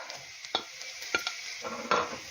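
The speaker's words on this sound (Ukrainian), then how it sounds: "Цибуля трошки посмажилася і зараз буду додавати сюди тут морку." Onion frying in a pan, stirred with a utensil: several sharp scraping stir strokes over a steady close sizzle, no voices.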